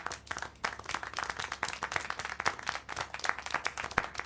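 Clapping from the video game Syberia The World Before, a steady run of close, crisp hand claps with irregular rhythm, like a small burst of applause, with no talking.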